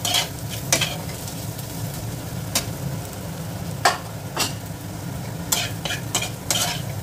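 Turmeric and Kashmiri chilli powder masala is stirred in a sizzling frying pan. Sharp utensil scrapes and clinks stand out at irregular intervals over a steady, close fry, with no voices.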